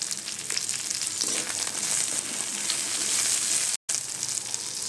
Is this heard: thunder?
no